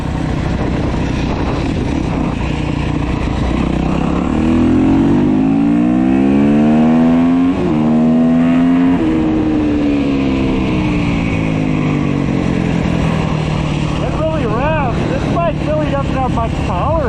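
A 2011 Yamaha YZ250 two-stroke dirt bike engine revs up and down repeatedly, rising and falling in pitch, with a nearby voice talking over parts of it.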